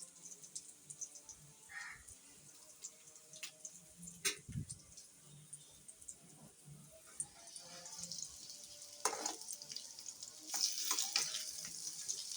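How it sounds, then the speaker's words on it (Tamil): Quiet, uneven sizzling of food frying in a home kitchen pan, broken by scattered clinks and scrapes as it is stirred, with no talking. "நம்ம கவனிக்காத நல்லா ஃப்ரை ஆகிருப்பாங்க இல்லை?"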